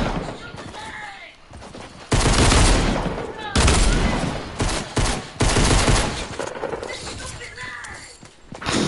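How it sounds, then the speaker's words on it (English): Dual pistols fire in a shooting video game, sounding as loud, dense volleys of gunshots in repeated bursts lasting about a second each, with game sound effects and a voice in between. "Yo, use the dual pistols."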